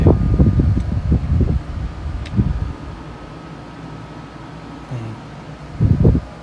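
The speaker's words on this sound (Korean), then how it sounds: "4오브 에어컨 치고는 조용하고 아주 좋습니다." A Costco portable air conditioner runs with a steady, fairly quiet fan whoosh and a faint constant hum, broken by a few louder low rumbling thumps near the start and again at the end, with no voices.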